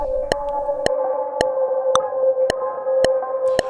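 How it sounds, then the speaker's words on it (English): Repeating echoes from an Aura reverb plugin synced to tempo: a sustained tone struck by bright, evenly spaced pulses about every half second, each with a decaying tail, steady and fairly loud with no talking. "So now the echo is falling within the timing."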